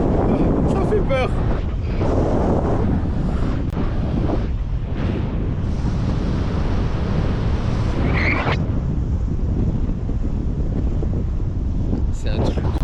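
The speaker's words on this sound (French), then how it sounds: "Il y a un vent de malade. Pas de vent, c'est la vitesse du vent." Strong, steady wind roars and buffets the microphone without a break, a broad rushing noise that holds at high level throughout, with faint voices sometimes breaking through the gusts.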